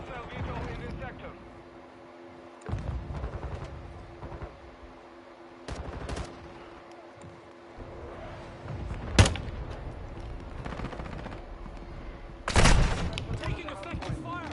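Gunfire in a military video game: scattered sharp shots and short bursts, a few loud close cracks among fainter distant pops, with a radio-style voice speaking through much of it.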